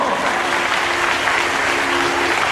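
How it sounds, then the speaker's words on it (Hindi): An audience at a religious katha gathering claps steadily in dense, even applause, loud and continuous throughout, with no voices standing out. "जरा तालियों से स्वागत कर दें, मेरा निवेदन है।"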